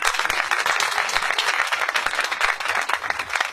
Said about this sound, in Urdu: بائبل مقدس کے لیے خدا کے خادم کے لیے تالیاں بجائیں.